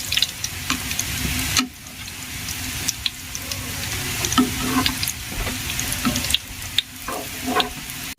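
Pitha rice cakes fry in oil in a pan over a low gas flame, giving a steady crackling sizzle with brief scraping stirs and clatters as the cakes are turned.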